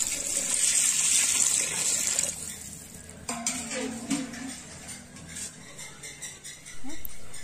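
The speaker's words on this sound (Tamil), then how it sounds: "இந்த ஸ்டேஜில் தண்ணி ஊற்றணும். 1 கப் அரிசிக்கு 2 கப் தண்ணி அளவு." Water gushes into a large pot of chicken dum biryani rice, made with four kilos of rice, as a loud, close pour that lasts about two seconds, then gives way to softer clatter and stirring sounds.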